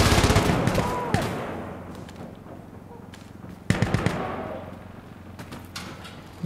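Gunfire in the shooter game Insurgency Sandstorm: a dense burst of sharp reports opens and dies into a reverberant tail, then a second volley follows. A voice talks faintly underneath.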